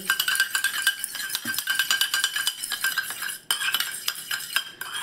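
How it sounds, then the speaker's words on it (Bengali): Oil and water are whisked in a small bowl for pitha batter, making quick, rhythmic clinks and scraping taps of a spoon against the container, close and continuous. "দিয়ে খুব ভালো করে এখানে একটু মিশিয়ে নিতে হবে"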